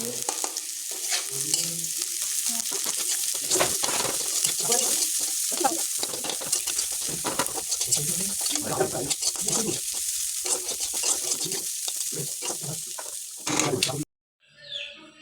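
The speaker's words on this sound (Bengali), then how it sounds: "এবার আলুটা না ভাজা হয়ে গেছে" Potatoes sizzle loudly in a pan while a spatula scrapes and stirs repeatedly, a busy crackling hiss that stops abruptly near the end.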